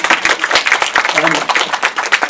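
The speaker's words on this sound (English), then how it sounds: "You can all clap." Panel audience in a House of Commons meeting room applauding together, a dense burst of hand claps that holds steady for a couple of seconds with uneven peaks.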